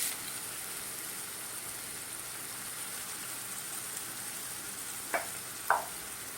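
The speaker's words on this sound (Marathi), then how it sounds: "आपण कांदा चांगला भाजून घेऊया" Chopped onions frying in oil in a kadhai over a high gas flame, a faint, steady crackling sizzle with two brief louder clinks near the end.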